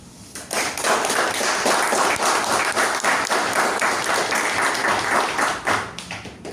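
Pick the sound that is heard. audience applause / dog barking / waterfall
audience applause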